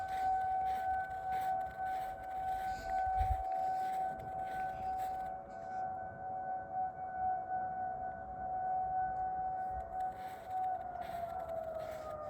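Far-off rotating tornado warning sirens being tested in Lucas County, Ohio, a faint sustained wail that swells and fades as the horns turn, then its pitch sags as the siren winds down at the end.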